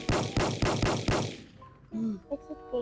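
A rapid burst of automatic gunfire from a gun in the Roblox video game, five loud evenly spaced shots, followed by chirpy game sounds and a brief voice.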